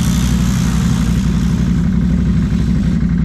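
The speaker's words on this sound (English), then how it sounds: "that heat shield's rattling like a fucker" Heat shield rattling on a Can-Am Outlander 450 ATV running hard at full throttle, a loud, steady engine drone with a buzzing metallic vibration running continuously throughout.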